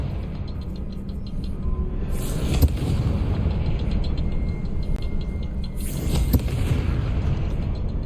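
Confringo fire spells burst in Hogwarts Legacy, two heavy booming blasts a few seconds apart over a continuous deep rumble, loud and close.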